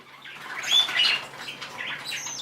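Pet birds in cages flap their wings in short soft bursts, a fluttery rustle with faint chirps mixed in, fairly quiet and close in a calm indoor room.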